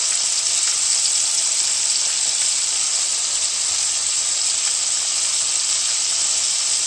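Extra large shrimp fry in a pan of hot oil with a steady, dense sizzle and crackle that stays loud and even throughout, with no voices over it.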